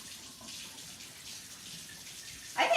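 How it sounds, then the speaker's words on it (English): Tap water running steadily while hands are washed in a kitchen, a soft continuous hiss that ends in a brief louder splash, close by, no talking. "let me wash my hands"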